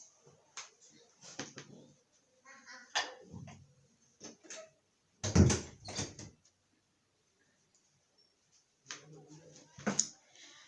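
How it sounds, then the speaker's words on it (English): An indoor door is shut partway through, giving a single sharp thud amid scattered speech and small knocks in a quiet room. "let me close this door."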